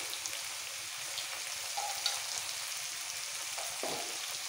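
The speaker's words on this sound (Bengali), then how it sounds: "আলুগুলো তেলের মধ্যে নাড়াচাড়া করে দিয়ে দেবো" Potatoes frying in hot oil and being stirred in a pan for murighonto, a steady close sizzle with a few soft scraping stirs toward the end.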